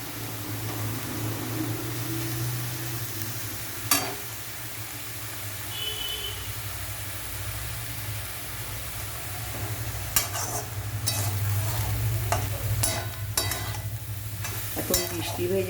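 Potato and rice frying for a banana stem curry, a low continuous sizzle in a pan with occasional sharp clinks and scraping stirs near the end, close and moderately quiet, with no talking.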